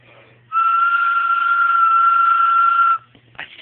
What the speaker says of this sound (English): So it's a whistle,